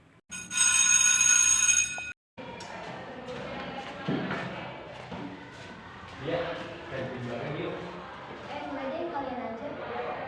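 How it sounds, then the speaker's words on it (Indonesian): A loud electric school break bell rings steadily for about two seconds at the opening, then cuts off abruptly. A noisy classroom follows, with students talking and moving about. "Tak terasa, bel istirahat berbunyi."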